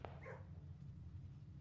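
A puppy gives a single short bark in a kennel, brief and faint over a steady low hum.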